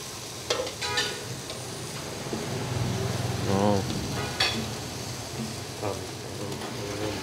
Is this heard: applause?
no